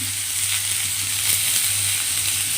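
Rui fish curry (macher jhol) simmers in a pan with a loud, even sizzling hiss and soft bubbling, steady throughout and close by, with a low hum underneath and no speech.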